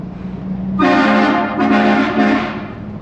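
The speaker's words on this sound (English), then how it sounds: "That is so freaking loud. Like, it just echoes off everything under the underpass" A loud vehicle air horn blasts under a highway underpass, a long sustained honk that briefly dips and resumes, ringing and echoing off the concrete over the steady low rumble of the moving vehicle.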